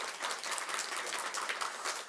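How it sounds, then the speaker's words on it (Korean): Church congregation applauding warmly to welcome a newly registered member back to worship during a Sunday service, a dense steady wash of many hands clapping together with no voices over it. "우리 힘차게 박수로 환영해 주시겠습니다."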